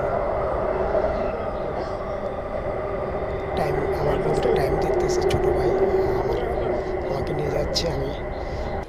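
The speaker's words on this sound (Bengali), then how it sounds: "আমরা মেট্রো রেল থেকে একটু পরে সামনে স্টেশন নেমে যাব" A metro train ride in Malaysia, heard from inside the car as a steady, loud rolling rumble and hum that lasts throughout, with a faint murmur of voices underneath.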